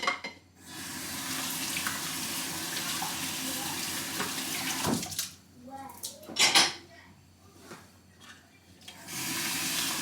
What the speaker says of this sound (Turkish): Ben de şuraya hemen bir su vurayım.